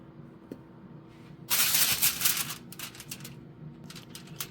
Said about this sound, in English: going to go ahead and poke some holes with a fork into the potato